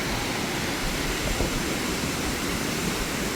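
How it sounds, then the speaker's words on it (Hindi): Bhalugada waterfall in Uttarakhand, water dropping from a great height, makes a steady, dense broadband roar that holds unchanged throughout with no voices. "बहुत ऊंचाई से पानी गिरा, एकदम वाइट, जस्ट लाइक मिल्क।"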